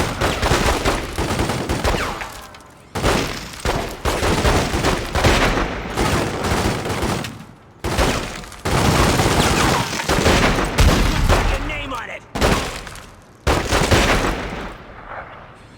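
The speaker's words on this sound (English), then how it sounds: "Man, I love the sniper rifle." Sniper rifle fire from the video game The Godfather 2 comes in loud, dense bursts that nearly fill the span, with only brief gaps between volleys.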